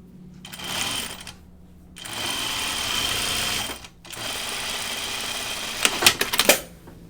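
A sewing machine stitches a tunic seam in three bursts of fast, whirring chatter separated by short pauses, ending with a few sharp clicks as it stops.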